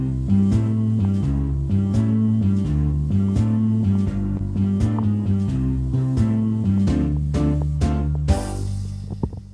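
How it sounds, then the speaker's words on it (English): A Lowrey organ plays the original introduction of a song, with sustained chords in a steady rhythmic pattern and a bass line, loud and close, ending in a final flourish. "that's the exact original introduction that I have in the Lowry instrument here I'm playing"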